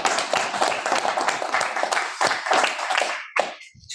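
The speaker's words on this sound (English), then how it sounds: "I feel like we owe Barb a major round of applause" A room full of people claps for Barb Nowakowski at a school supervisory union board meeting. The dense round of applause is close and steady, then thins into a few last claps near the end.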